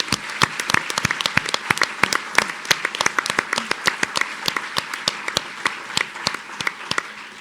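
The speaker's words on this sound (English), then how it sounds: "So now, really applaud them" An audience at a Lake Forest mayoral candidate forum applauds steadily, many hands clapping in a dense, even patter that carries on throughout without pause.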